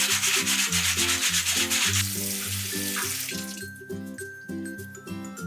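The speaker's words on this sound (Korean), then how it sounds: "체에 받쳐 흐르는 물에서 깨끗이 씻어주세요" Clams rinsed in a sieve under running tap water, a close rhythmic rubbing and swishing of shells in regular strokes over a steady water stream that thins toward the end.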